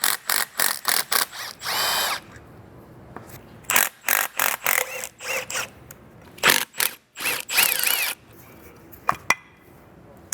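Power tool driving out the bolts that hold the oil cooler thermostat on a BMW N55 engine, heard as loud, close bursts of whirring separated by short pauses and occasional ratcheting clicks.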